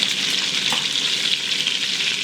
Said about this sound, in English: what we're trying to do is brown the meat on both sides